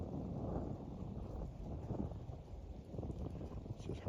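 Wind buffets outdoors near a corn pile in a Kansas snowstorm, making a low, continuous rumbling roar on the microphone that swells and eases slightly, fairly faint with no voices.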